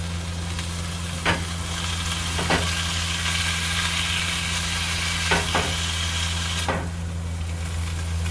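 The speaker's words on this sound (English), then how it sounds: "I've got the meat, the onions, and the mushrooms all mixed together and sauteed." Meat, onions and mushrooms for a Philly cheesesteak sauté on a camp stove beside a truck camper, a steady sizzle with a low hum underneath and a few sharp scrapes of a spatula.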